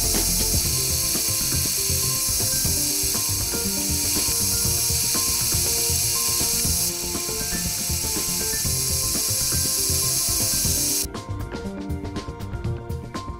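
A home machine-shop lathe roughs out a mild steel flathead screw for a clock, making a loud, continuous mechanical whir and chatter with a dense ratcheting texture, heard alone and close up.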